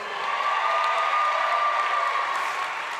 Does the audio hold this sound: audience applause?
yes